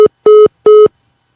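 A phone call dropping out: three short, identical electronic beeps, each a steady mid-pitched tone, evenly spaced and loud, followed by silence.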